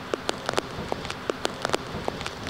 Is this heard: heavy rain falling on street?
yes